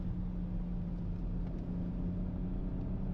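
A Hyundai car engine at full throttle on a sharp right-hand bend of a track, a steady, loud low drone of engine and road noise with no speech.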